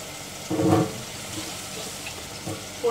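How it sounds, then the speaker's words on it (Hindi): A little water is poured into curry masala of ground coconut spice and Kashmiri red chilli for a black-eyed pea curry, giving a brief splash and sizzle near the start, then a softer hiss with a small stir-like burst at the end. "थोड़ा सा पानी भी ऐड करेंगे।"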